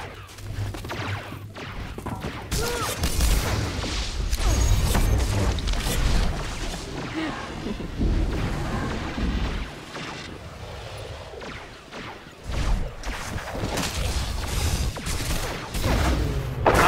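Turret gunfire during a PvP battle in Star Wars: The Old Republic, dense and loud, with booming blasts, crashes and whooshes merging into a continuous roar of combat effects.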